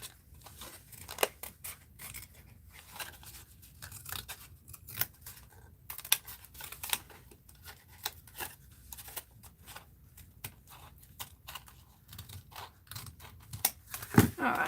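Scissors snipping through paper for an art journal, a series of irregular crisp cuts and rustles close up, fairly quiet, with occasional pauses between snips.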